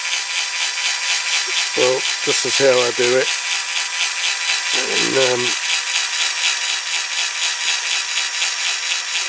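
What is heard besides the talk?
drilling out rivet posts on a Dinky Toys die-cast model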